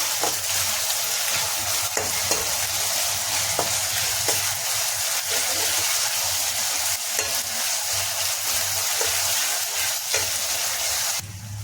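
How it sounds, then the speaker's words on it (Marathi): Masala paste (vatan) sizzling and frying in a pan for chicken as it is stirred, a steady loud hiss with faint periodic scrapes of the spoon, no voices. "वाटण लालसर होईपर्यंत छान असं परतून घ्यायचं।"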